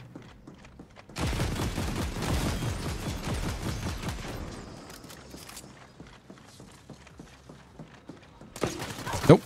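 A turret opens fire in the video game The Ascent, a sustained burst of heavy rapid shots followed by quieter mechanical clatter and a final sharp blast, with faint voice underneath.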